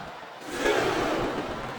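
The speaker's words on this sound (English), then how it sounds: "I think these superstars are getting some feedback from the crowd, JR." Virtual arena crowd roars in WWE SmackDown vs. Raw 2007 during a wrestling match, a steady broadband cheer that swells after a quiet start and holds loud to the end.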